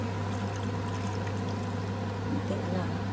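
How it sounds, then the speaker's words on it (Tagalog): Water is poured into a pan holding a kilo of mussels and shrimp for a spicy Filipino sauté, a steady liquid pour running under a loud constant hum. "Lagyan natin ng konting tubig."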